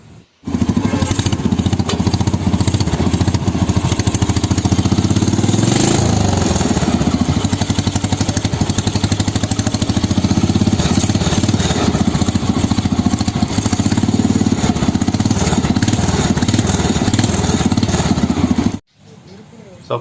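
A 1972 Royal Enfield Bullet motorcycle, made in England and unstarted for about twenty years, running with a loud, rough, continuous thumping engine note close by for most of the time before cutting off.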